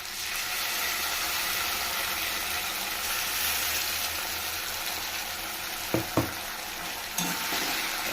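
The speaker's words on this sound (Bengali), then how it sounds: "এটাকে ভালো করে ভেজে নিতে হবে।" Potato and onion frying with spices in a pan for a fish roe curry, a steady soft sizzle throughout with a few quick scraping stirs near the end, no voices.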